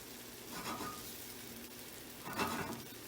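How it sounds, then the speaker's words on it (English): Egg frying in a pan as it is slid back and forth on the stove, a soft steady sizzle with faint scraping swells from the pan's movement. "Moving it back and forth, this is how you get it to cook the egg."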